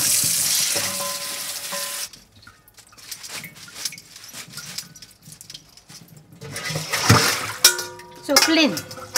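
Spinach and clams being washed by hand in cold water, with swishing, splashing and trickling that grows louder toward the end, and a voice speaking in between.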